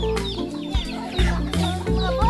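Chickens cluck repeatedly at close range in a rural provincial yard, the short calls coming one after another in an uneven rhythm, fairly loud and with no talk over them.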